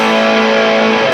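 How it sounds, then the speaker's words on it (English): An electric guitar played through a Joyo JF-303 Little Blaster distortion pedal with the drive cranked way up, giving a loud, sustained, hissy chord that rings evenly and then cuts off. "You're cranking the distortion way up there."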